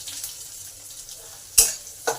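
Onion going into hot oil after cumin and garlic, giving a soft frying hiss with two sharp sizzling bursts where the pieces hit the oil, no voices.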